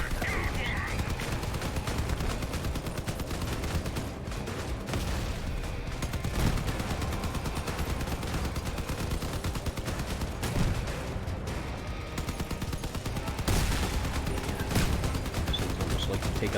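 Vehicle-mounted weapons fire in the combat game Crossout as a steady, rattling barrage of shots runs throughout, with heavier booms now and then, moderately loud but slightly distant.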